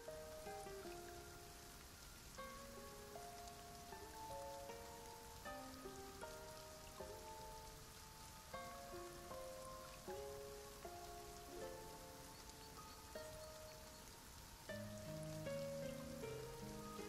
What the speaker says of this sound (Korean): 비가 잦아드는 걸 보니 곧 그칠 것 같네요